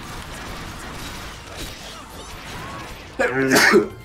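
Quiet background, then a single sharp, loud sneeze bursts out near the end.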